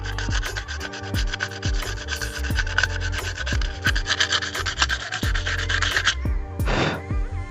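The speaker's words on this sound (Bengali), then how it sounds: "পরিষ্কার করার জন্য সিম্পল এটাকে আমরা একটু ঘষে নেব" Battery contacts in a remote control get scrubbed to clear carbon buildup: a loud, close, rapid scratching rub in short repeated strokes over several seconds, ending with a brief louder swipe.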